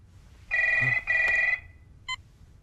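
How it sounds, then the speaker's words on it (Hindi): A telephone rings indoors: two bright electronic ring bursts back to back, then a short chirp after a pause, fairly clear against a quiet background. "अबे फोन बज रहा है।"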